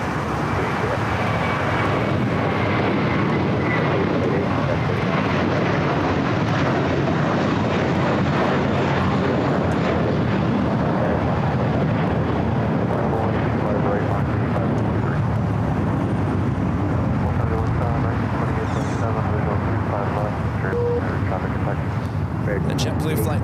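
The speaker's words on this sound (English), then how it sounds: "The JetBlue flight taking off, heading to Boston, flight 188, and then A321" A JetBlue Airbus A321 jet roars down the runway on takeoff at LAX, bound for Boston, a loud, steady broadband engine rush lasting throughout with wind buffeting, and a voice talking over it.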